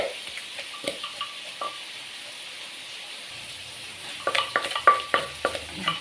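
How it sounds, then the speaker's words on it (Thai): Soft sizzling of pork frying in a pan, with a low steady hiss that breaks into louder crackling pops near the end. No voices. "เสียงแซ่ๆก็ทอดหมูนะทอดหมูไปด้วยทำพริกไปด้วยนะคะ"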